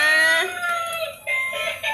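A battery-powered transforming toy chicken plays an electronic laughing sound effect, a loud, close, warbling, clucking burst that repeats in short bouts over two seconds.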